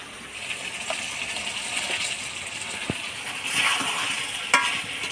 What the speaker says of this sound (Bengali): মাংসের সাথে আলু দিয়ে ভালো করে কষাই নেব।